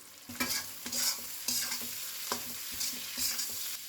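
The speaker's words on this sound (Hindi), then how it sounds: "हाई फ्लेम पर हमें वेजिटेबल को 2 से 3 मिनट के लिए सटे करना है।" Vegetables for chicken chow mein are stir-fried on a high flame, a close, steady sizzle broken by repeated rhythmic scrapes and clanks of the spatula against the pan, with no talking.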